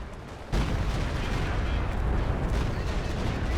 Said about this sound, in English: Artillery gets a great hit once again. ISU 152.